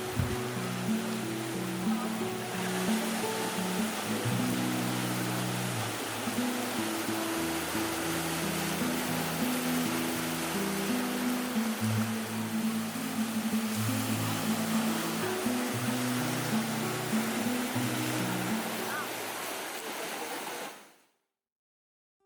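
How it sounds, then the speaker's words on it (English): Steady broadband wash of surf rolling in continuously, with a low engine-like drone underneath, ending abruptly. "I could still hear the ocean waves"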